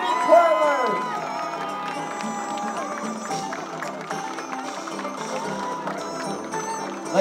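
Crowd cheering and whooping at a Lunar New Year parade as ribbon twirlers pass, a steady, fairly loud wash of voices and scattered shouts lasting throughout with no break.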